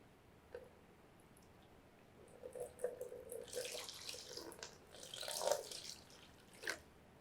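Water running from a tap into a bowl on a kitchen scale for sourdough, a quiet splashing stream with drips that grows louder midway, heard close.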